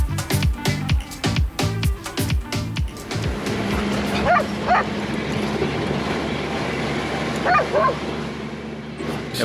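Two farm dogs guarding livestock in rural Damaraland, Namibia, bark and yip at a truck from some distance, a few short calls over steady vehicle rumble after a burst of close thumping.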